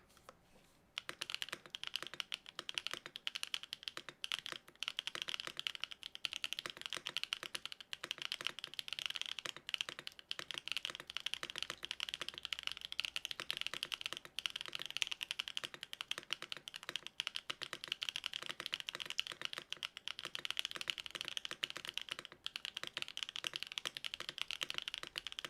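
Fast, steady typing on a Neo98 mechanical keyboard fitted with HMX T-Rex, HMX Toast or BSUN switches, a dense close run of crisp clacks and taps lasting the whole stretch with no talk.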